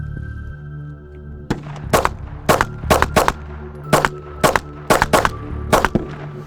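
A Glock 43X pistol fed from a Shield S15 magazine fires about a dozen sharp, loud shots in uneven bursts and pairs, some in quick doubles, over a low steady background hum.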